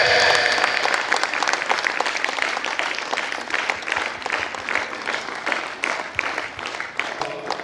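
A crowd at a karate inter-dojo championship programme gives sustained applause, many hands clapping loudly at first and tapering slightly over several seconds.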